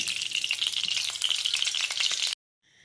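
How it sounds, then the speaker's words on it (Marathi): Close, crackling sizzle of hot oil in a wok, steady for about two seconds before cutting off abruptly, followed by a faint tone. "आता कढईमध्ये एक छोटा चमचा तेल घालायचं"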